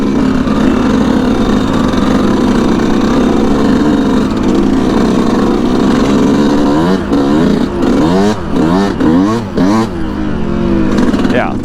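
Yamaha YZ125 two-stroke dirt bike engine running steadily and loudly, a buzzing drone that rises into several revving surges near the end, with someone talking over it.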